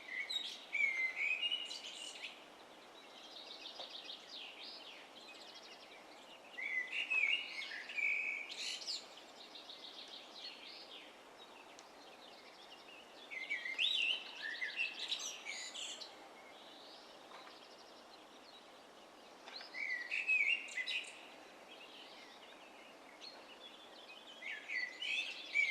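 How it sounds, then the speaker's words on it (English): Birds sing in Mürren, a Swiss alpine village above the Lauterbrunnen valley, their bright chirping phrases arriving in repeated bursts every few seconds over a quiet outdoor background, moderately close and with no talking. "Just listen to the birds sing."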